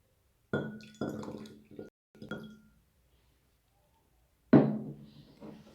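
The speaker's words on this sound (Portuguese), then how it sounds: "e vou jogar água fria." Cold water poured into a glass already holding water, in a classroom thermal-equilibrium demonstration: a few short splashing pours and clinks, then one louder pour after a pause.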